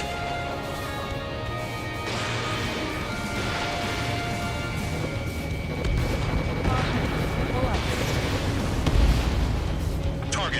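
Target explosion in the Ace Combat 7 video game: a sustained rumbling blast with crashing debris, swelling louder near the end under continuous engine roar, with a radio voice speaking briefly.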